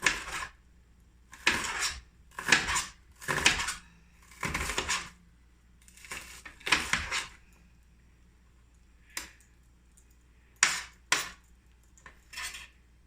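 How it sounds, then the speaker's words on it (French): An onion is finely chopped with a knife for a pineapple, avocado and shrimp salad, giving bursts of close blade strikes against a board separated by short pauses. "L'oignon, on va venir les ciseler"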